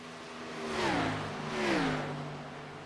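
Two race cars in a Winter Series event at Michigan International pass by one after another, engines rising to a loud whining roar with a Doppler drop as each goes by, then fading back into a steady background drone.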